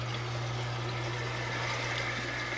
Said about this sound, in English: I've got a Corellia down there just keeping the water flowing.